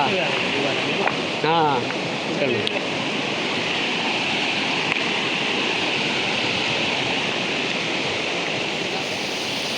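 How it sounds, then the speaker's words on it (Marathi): A river flows in a steady, loud broadband rush that fills the whole stretch, with a brief human voice early on over the water. "मस्त पाणी चालू आहे"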